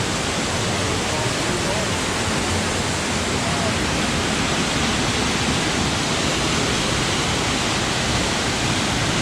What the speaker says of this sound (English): Blue Hole Falls.